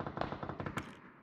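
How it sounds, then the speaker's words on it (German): Rapid string of explosions in a shrinking battle-royale game zone, a quick crackling burst of about a dozen pops over one second, then fading out. "während die Zone um uns herum explodiert"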